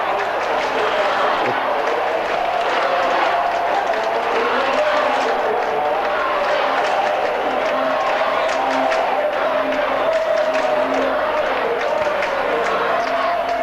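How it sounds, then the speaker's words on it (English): A football crowd roars at the 1986 SANFL Grand Final, a dense, steady wall of cheering and shouting that holds loud for the whole stretch, with no clear gaps. "And just listen to the crowd."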